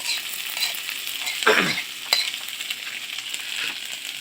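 Caught wild dove frying in a pan: steady close sizzling with occasional stirring scrapes and clinks, no voices.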